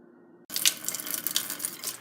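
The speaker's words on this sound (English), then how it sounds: "Now I'm adding the water to the container and it's going in nice and smoothly." Water is poured into a container while mixing a power drink, a steady rushing splash that starts abruptly after a moment of near silence and continues, close and fairly loud.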